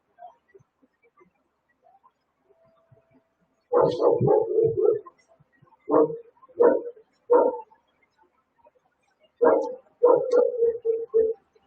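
A dog barks in repeated bursts, clusters of sharp woofs separated by short pauses, fairly close and loud against an otherwise quiet room.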